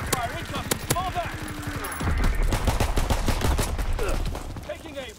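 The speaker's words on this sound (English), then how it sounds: "Enemy mortar fire incoming." Enemy mortar fire in a video game, heard as a run of sharp, rapid blasts and thuds of varying loudness, with a voice speaking over parts of it.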